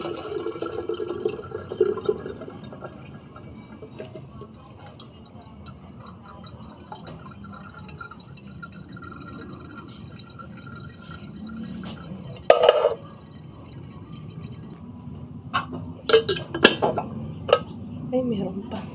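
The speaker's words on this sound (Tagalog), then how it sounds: "Salain ko naman ulit yung sabaw." Soup broth strained and poured in a home kitchen while preparing a simple New Year meal, with a steady low trickle of liquid, a few sharp clinks of dishes or utensils, and faint talk in the background.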